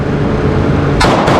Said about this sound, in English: Let's do a mag dump.